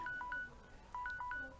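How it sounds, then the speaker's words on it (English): A mobile phone sounds an alert tone signalling that time is running out: two short bursts of paired electronic beeps separated by a brief pause, clear and close, with no talking. "That's my phone telling me that I have 120 seconds left."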